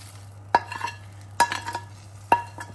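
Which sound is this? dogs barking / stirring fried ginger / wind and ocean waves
stirring fried ginger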